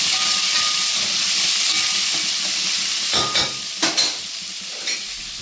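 Onions and green chillies fry in hot oil with a loud, continuous hiss and sizzle, broken by a few sharp spatters and utensil scrapes near the end.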